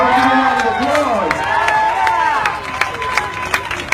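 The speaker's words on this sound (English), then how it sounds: "Give a round of applause." Crowd at a Black Lives Matter rally outside Springfield City Hall applauding and cheering, loud at first then thinning to scattered claps, with voices talking through it.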